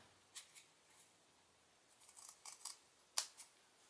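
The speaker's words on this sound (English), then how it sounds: "I'm going to get my snips out, and I'm just going to snip that" Craft snips cutting paper while trimming a handmade thank-you card, a few short crisp snips in a quiet room, scattered then clustered near the end, close and fairly soft.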